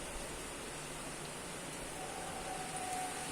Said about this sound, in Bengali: আজকে আবার সকাল সকাল শুরু হয়েছে বৃষ্টি